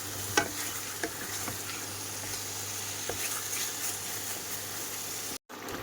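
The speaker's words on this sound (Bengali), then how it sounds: "এই যে মশলার সাথে আর একটু কষবো।" Spices frying and being stirred in a pan in a home kitchen, a steady close sizzle with a few scraping clicks of the spoon, then a brief dropout near the end.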